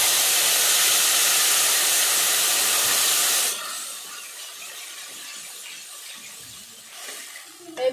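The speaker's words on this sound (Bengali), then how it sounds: "আর এই যে তেঁতুলের পাল্পটা এবার ঢেলে দেবো।" Tamarind pulp hits a hot pan of tempering spices for a tangy puti fish curry, letting out a loud, broad hiss of steam for several seconds that drops to a softer sizzle.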